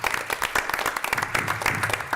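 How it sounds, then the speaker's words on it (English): A small group at a school board meeting gives a round of applause, a quick burst of close, individual-sounding claps that stays fairly quiet and ends shortly. "So give them a round of applause."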